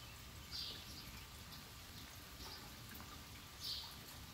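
Soft rain falling outdoors where a dog sits, a faint, steady hiss of drops with a couple of brief brighter ticks standing out, no voices.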